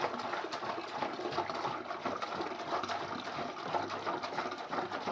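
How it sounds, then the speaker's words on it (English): Water pours steadily into a Fermzilla fermenter while brewing a Coopers European Lager, a continuous close splashing gush with no pauses or talking. "So I'll just grab my water, pour it in."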